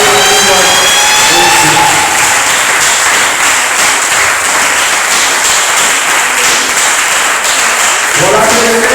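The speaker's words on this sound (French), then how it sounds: "Est-ce qu'on peut d'abord acclamer le Seigneur?" A church congregation at a Sunday service claps loudly and continuously to acclaim the Lord, dense sustained applause filling the room with cheering and voices mixed in throughout.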